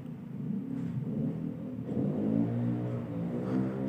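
A motorbike engine in GTA San Andreas revs and climbs in pitch in a steady mid-range drone, rising and falling through a few throttle swells, moderately loud and alone.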